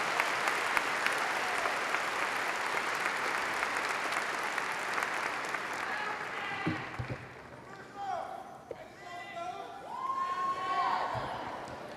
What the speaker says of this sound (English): Let's give Ken a round of applause